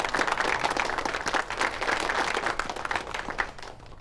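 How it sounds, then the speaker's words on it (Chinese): A group in a formal county assembly hall bursts into sustained applause, dense clapping that stays steady and loud for the full stretch with no voices over it. "大家鼓掌"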